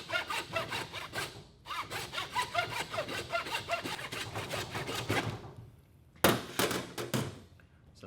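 Hand saw cutting down through a deer skull just behind the eye sockets, rapid back-and-forth rasping strokes, close and fairly quiet, with a brief pause, a thunk, and a final few strokes.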